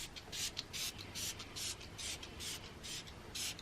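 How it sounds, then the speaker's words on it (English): Spray bottle misting, a series of about nine short hissing bursts in a quick uneven rhythm, close and fairly quiet, with no voices. "I'm just going to now spray two sprays"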